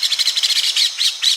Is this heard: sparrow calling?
yes